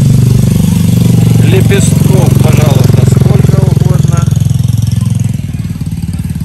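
Motorcycle engines idle steadily at a busy Bali market in Ubud, a loud, close, continuous low rumble that fades slightly near the end, with people talking over it.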